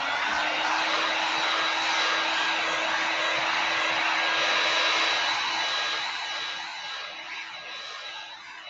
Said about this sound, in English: Dry it some more. I can't flip it without drying it.